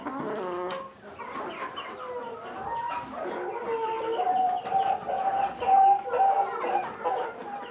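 Chickens in a hobby coop cluck and murmur continuously, several birds close by with overlapping calls and a rising, drawn-out cackle near the end.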